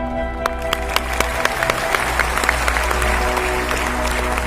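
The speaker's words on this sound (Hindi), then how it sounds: "ताली बजाना, बजाओ दी ताली बजाओ" An audience applauds at a grand musical stage show about Ambedkar, a steady wash of clapping with sharp individual claps standing out, continuing for several seconds at close range.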